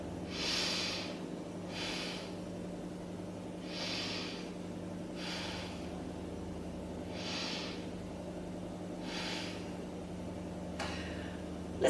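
Slow, deep breaths during a beginner yoga pose, about six soft airy inhale-exhale swells at an even rhythm, close and quiet against a low background hum.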